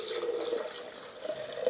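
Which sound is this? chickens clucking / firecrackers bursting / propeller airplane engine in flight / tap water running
tap water running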